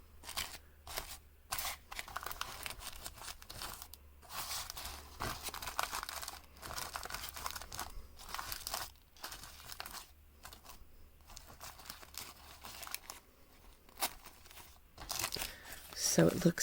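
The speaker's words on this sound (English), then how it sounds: "I like to kind of just crunch up the edges a little bit" Tissue paper salvaged from an 1800s French book page gets crumpled and torn close up, rustling crinkles and short ripping bursts coming in uneven waves.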